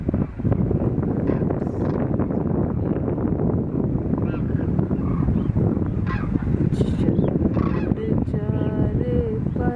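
A dense flock of demoiselle cranes at Khichan keeps up loud, overlapping honking calls without pause, mixed with wind buffeting the microphone.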